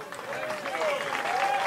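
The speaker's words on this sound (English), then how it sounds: "Give yourselves a round of applause." Concert audience at a live show applauding steadily, a dense wash of clapping that holds at an even level for under two seconds, with a voice briefly audible over it.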